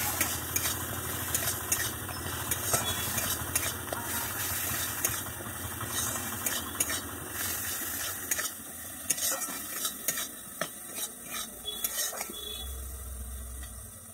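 Pointed gourd sautés in oil in a pan without water while being stirred, giving a steady close sizzle broken by repeated scraping and clinking of the utensil against the pan, with no talking.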